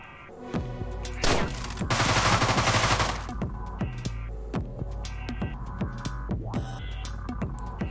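Deadbolt video game gunfire: bursts of shots in a firefight, with a dense, loud volley in the middle of the stretch and sharper individual cracks before and after over a droning game soundtrack.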